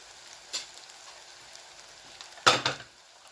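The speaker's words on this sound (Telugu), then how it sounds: "చూడండి, ఉల్లిపాయలు వేగుతున్నాయి." Onions frying on low heat in a pan for an arbi curd curry, a soft steady sizzle with a couple of louder stirring scrapes near the end.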